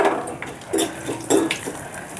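Tempering spices and dry red chillies fry in hot oil in a pot, with metal utensil clinks and scrapes standing out over a soft background sizzle, close and with no voices.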